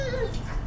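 A dog gives a short, high, thin whimper that slides downward, close by over a low background rumble.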